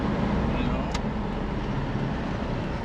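A 1980s Toyota 4x4 pickup runs with no muffler, giving a steady, loud, unbroken exhaust roar that fills the cab.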